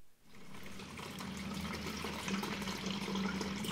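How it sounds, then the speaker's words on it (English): Coolant pours from an opened car radiator drain plug into a bucket, a steady continuous splashing stream that runs close and fairly loud for the whole stretch. "Just put the bucket underneath it and open the drain plug."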